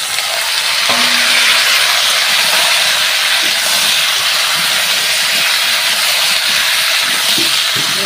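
Potato pieces sizzle in hot oil in a pan, making a loud, dense and steady hiss throughout, with no talking.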